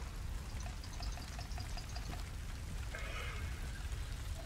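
Rain falls in the survival video game Ylands, making a soft, continuous patter and hiss. It is faint and steady, with no talking.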